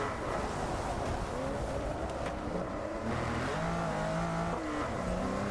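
Race car engine revving and droning steadily in an online racing video game set on an Ibiza map, with shifting pitch as the car accelerates, continuous and fairly loud throughout.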